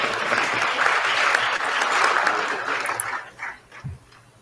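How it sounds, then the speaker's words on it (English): Audience applause at a University of New Mexico lecture event, a dense burst of crowd clapping that fades out over the last second. "How about a round of applause for you for being so patient?"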